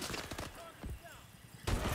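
Several bursts of KF5 gunfire in Call of Duty: Advanced Warfare multiplayer on a Riot map, rapid close shots over the first second, then a loud sudden blast near the end amid game noise.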